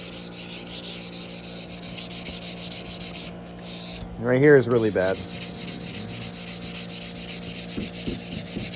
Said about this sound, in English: We should be sanding directly onto the lacquer.